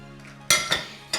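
Four eggs with a pinch of salt are whisked in a bowl, producing three sharp, close utensil clinks against the dish, separated by short quiet gaps, with no speech.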